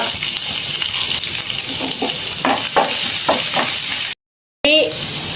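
Curry leaves, ginger and garlic sizzle in hot oil for a potato fry, a loud steady crackling hiss with a few stirring clatters, then a brief silence before the frying resumes.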